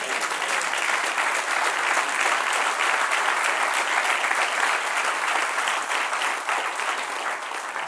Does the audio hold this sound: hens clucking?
no